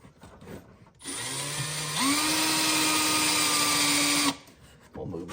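A Milwaukee 3/8 power drill whirs steadily for about three seconds, its pitch stepping up partway as it speeds, loud and close, with brief talk before and after.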